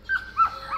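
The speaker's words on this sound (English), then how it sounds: "now the dog is like, I want to play" A dog near a goat pen, eager to play, lets out three short high whines in quick succession, close and moderately loud over a quiet background.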